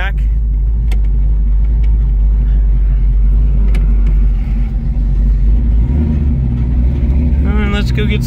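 A 1966 Ford Mustang V8 idling and pulling away, a loud, steady low-pitched engine rumble close by, with a brief rise in revs near the end.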